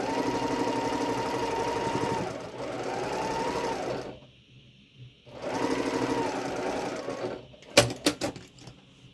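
A sewing machine stitches quilt pieces together in close, loud bursts of rapid whirring, stopping briefly before starting again, then a few sharp clicks and taps at the end.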